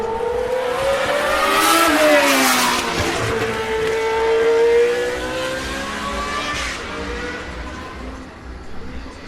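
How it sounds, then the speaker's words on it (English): A Lotus 78 Formula One race car screams by close and loud, its high engine note climbing, dipping and climbing again through gear changes as it passes, then fading away. "That was a Lotus 78, possibly? 79."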